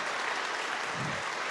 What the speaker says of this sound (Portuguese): Vamos aplaudir Jesus, que Ele merece.